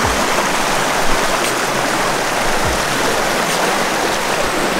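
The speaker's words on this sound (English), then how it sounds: "we're crossing the river to the other side" River stream and waterfall at Kawasan Falls in Cebu, Philippines, a steady, loud rushing wash of flowing water that continues evenly throughout with no talk.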